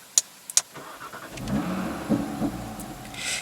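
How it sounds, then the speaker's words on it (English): A few sharp little pops and clicks, then a remapped Audi RS3 engine cranks and settles into a low, steady idle nearby. "Can hear those little pops as she starts up"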